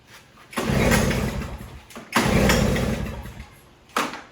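A Toro single-stage snowblower engine cranks and catches in two loud bursts of a second and a half each, a short gap between them, then a brief third sputter at the end, heard close up with no talk.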